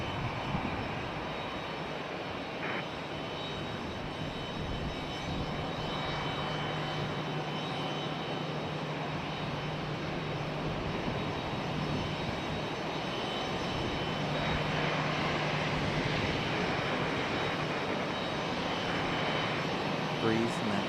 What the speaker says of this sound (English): Breeze in that A220